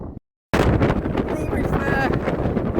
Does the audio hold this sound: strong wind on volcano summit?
yes